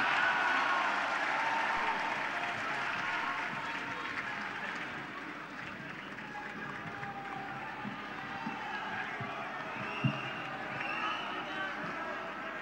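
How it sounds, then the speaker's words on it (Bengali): Audience applauding at a digital device and innovation tech expo, broad continuous clapping from a crowd in a large hall, steady and moderately distant, with some voices mixed in. "জোরে একটা করতালি সবার কাছ থেকে।"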